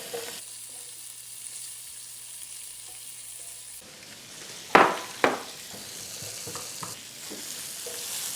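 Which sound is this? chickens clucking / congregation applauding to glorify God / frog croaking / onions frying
onions frying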